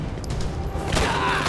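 Video game gunfire from Red Steel on the Wii, a continuous stretch of loud shots and bursts blending into a dense, steady barrage with no clear gaps between them.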